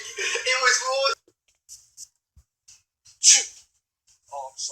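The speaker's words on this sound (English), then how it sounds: "Did you sneeze on me?" A person fakes a loud sneeze as a prank, one sharp close burst after an opening stretch of talk, followed by breaths and scattered small noises, with voices returning near the end.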